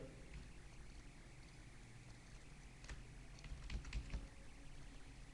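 Keys tapped on a computer keyboard while entering a customer's address into a shop invoice, a soft, steady patter of clicks with a brief denser burst near the end, close and fairly quiet.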